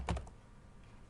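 A few quick keystrokes on a computer keyboard, a brief cluster of soft clicks near the start, then quiet room tone.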